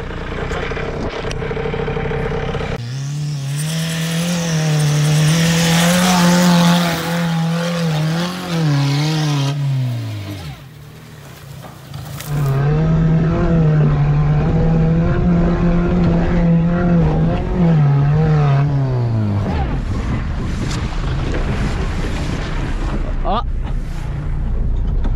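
A Peugeot 106 driving on a flat tire, loud engine revving and shifting pitch as it accelerates, with wind rush and rumbling road noise, briefly easing off midway before pulling hard again.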